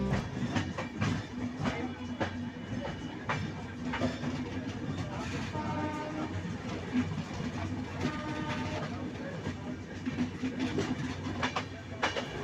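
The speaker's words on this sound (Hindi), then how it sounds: "अब ये ट्रेन सचिवालय हॉल्ट से गुजर रही है" The Danapur–Jaynagar intercity express runs on rails past a halt near Patna, with a steady rumble and repeated clickety-clack wheel beats over rail joints, heard from inside the moving train and close throughout.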